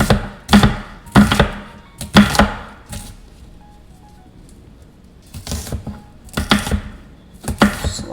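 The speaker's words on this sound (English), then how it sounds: "slice our onion." A kitchen knife chops through an onion on a cutting board, giving crisp, close thunks in short bursts with a quiet gap in the middle, and no one talking.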